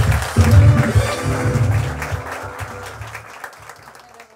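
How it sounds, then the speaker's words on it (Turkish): Studio audience of a late-night TV talk show claps to welcome a guest onstage, the applause strongest at first with low, booming music underneath, then tapering off over a few seconds. "Alkışlarınızla Buse Sinem İren geliyor."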